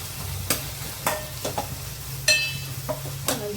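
Ginger garlic paste frying in a pan while being stirred for a stuffed brinjal curry, with soft sizzling under a series of sharp scrapes and clatters from the spoon against the pan, roughly one every half second.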